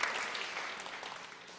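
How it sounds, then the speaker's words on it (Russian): Sustained applause from a music festival audience, a steady, fairly soft patter of many hands clapping together throughout, with no talking. "Ваши аплодисменты Александру."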